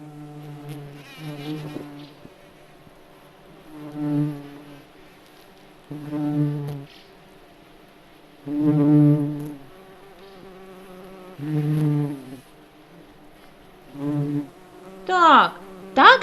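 A voice imitates a buzzing beetle during a children's music lesson, producing a series of drawn-out droning hums, each a second or two long, separated by short pauses and ending in a quick rising flourish.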